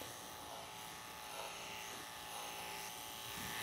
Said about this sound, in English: I think these clippers are smooth. They cut real nice